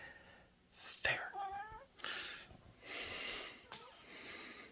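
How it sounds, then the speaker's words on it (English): A kitten inside a blanket fort gives a few soft, short meows close by, with quiet breathy noises between them, while a person talks gently nearby. "There's a kitten right there."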